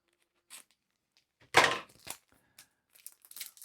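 A few sharp crinkly snips and rustles, one louder crunching cut in the middle, with short quiet gaps between close, handled sounds.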